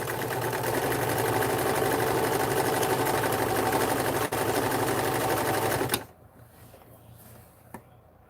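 A 1943 Montgomery Ward sewing machine runs at steady speed in a repair shop, a loud rhythmic mechanical clatter and hum lasting about six seconds before cutting off, then a quiet room with a faint click.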